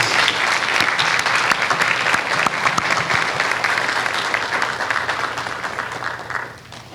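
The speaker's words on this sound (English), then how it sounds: "One more time, I'd ask for a round of applause, home and here in the audience for the students." An audience at a college commencement ceremony applauds steadily and loudly for the graduating students, a dense sustained clapping that fades slightly toward the end.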